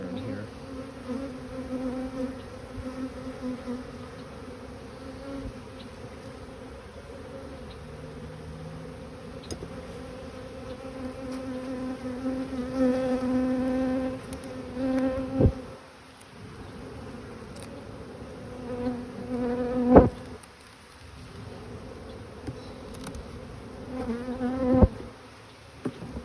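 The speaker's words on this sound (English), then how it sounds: "these bees are defensive" A swarm of defensive honeybees buzzes steadily around an open hive, a dense continuous hum with individual bees droning close past now and then, and a few sharp louder passes near the end.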